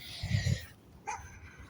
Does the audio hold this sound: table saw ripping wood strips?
no